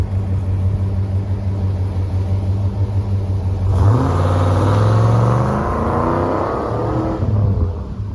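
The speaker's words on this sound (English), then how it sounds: "Let's hear Holden's V8." A 1989 Holden HSV VN SV LE wagon with a 5-litre 180 kW V8 idles with a deep rumble, then revs up and eases back down, loud and close, with no talk over it.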